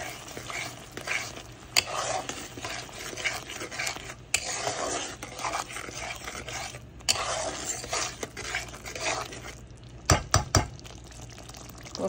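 Rui fish kalia curry being stirred and sautéed in a pan, with scraping spoon strokes and a continuous sizzle of oil, punctuated by a few sharp clinks against the pan near the end.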